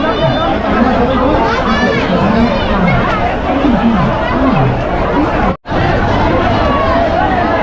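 Packed general-class coach on a crowded Delhi to Patna train: dense, loud babble of many overlapping voices, shouting and chatter close around, continuous apart from a momentary cutout.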